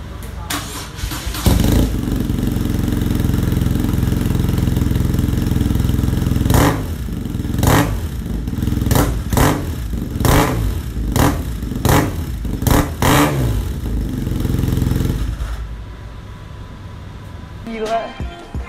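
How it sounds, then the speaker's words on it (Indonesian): A modified BMW R nineT motorcycle fires up indoors with the door shut and roars at a sustained loud idle, then is blipped in a series of sharp, rapid throttle revs before cutting off, leaving brief near silence. "karena kita mau ngeblar-blarin nih motor"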